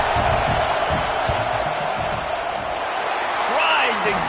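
A stadium crowd roars steadily in a dense, continuous wash during a football field goal attempt, with indistinct voices and occasional louder whoops toward the end.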